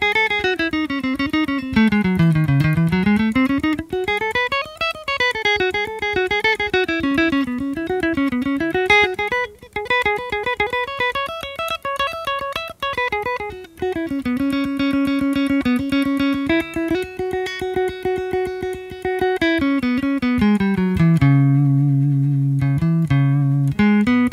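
Guitar warm-up exercise played at a brisk tempo, a continuous run of fast single-note lines that climb and fall across the neck, steady and close with no talking.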